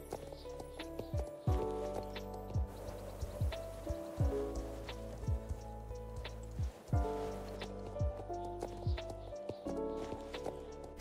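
Two horses led inside a winter barn into their stalls, hooves clip-clopping in a steady walking rhythm on a hard floor, close by, with soft barn noise between steps.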